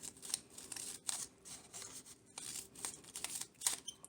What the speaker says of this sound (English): we're going to grab some scissors and cut through thin strips to create a grassy effect